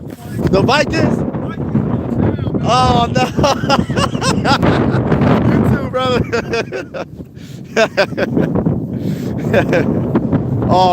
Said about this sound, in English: Sorry about the wind, y'all. It's a little windy out here.